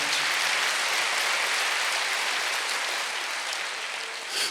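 A church congregation at a Wednesday worship service claps together in a steady, dense wash that sounds almost like heavy rain, sustained evenly before cutting off abruptly at the end.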